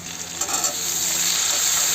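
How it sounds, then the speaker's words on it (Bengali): Drumstick stalks fry in oil in a pan with bitter gourd and potato, giving a steady, loud hiss and sizzle with no talking. "এবার এর মধ্যে কেটে রাখা নাজনের ডাঁটাগুলো দিয়ে হালকা ভেজে নেবো।"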